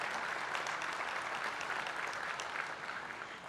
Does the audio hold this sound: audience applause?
yes